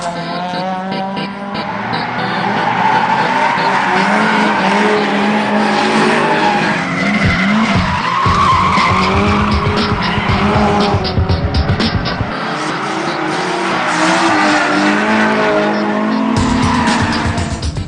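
Drift cars on a tight Japanese race track full of chicanes and U-turn switchbacks scream their tires in long squeals over revving engines, loud and continuous with passing surges.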